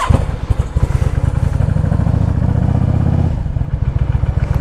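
A 2010 Yamaha V Star 650 motorcycle idles close by, its V-twin engine thumping in a loud, lumpy, uneven rhythm that steadies briefly in the middle before loping again.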